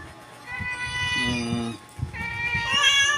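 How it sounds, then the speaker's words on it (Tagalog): Several pet cats, one a kitten, meow repeatedly at close range, drawn-out tonal calls rising and falling one after another, with a person's voice murmuring softly between them. "Yan, ang mga pusa ko."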